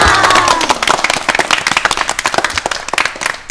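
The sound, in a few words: audience applause and clapping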